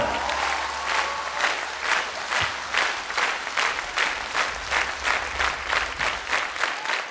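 A concert audience applauds the Berd dance ensemble at a 2020 live concert in Armenia, with dense, sustained clapping that holds steady throughout under a faint crowd murmur.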